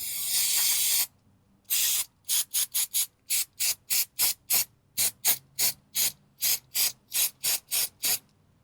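Cleaner sprayed onto a car's mass airflow sensor: one long hiss, a pause, then about eighteen short rapid spray bursts in a steady rhythm, close and loud with no talking.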